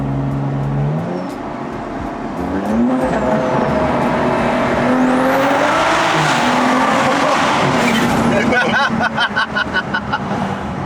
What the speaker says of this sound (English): Bro, the turbo sound too. Bro, the N55 does not suck.